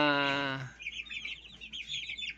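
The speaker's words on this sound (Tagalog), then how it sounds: "sisiw na ngayon is 1 month na sila" A flock of twelve one-month-old chicks keeps up dense, high, continuous peeping close by, following a brief voice at the very start.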